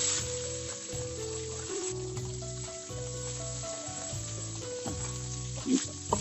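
Chopped small shallots fry in hot oil for a fish curry, giving a steady, close sizzle with occasional stirring knocks, while music plays underneath throughout.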